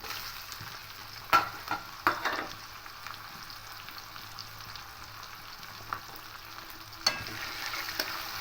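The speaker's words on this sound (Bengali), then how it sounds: "দিয়ে পেঁয়াজটা একটু হালকা লাল লাল করে ভেজে নেবো" Steady, soft sizzling of chopped onions and bay leaf frying in oil, with a few sharp clacks from a utensil against the pan.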